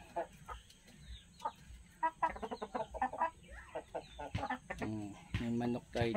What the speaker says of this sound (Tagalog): May manok tayo dito.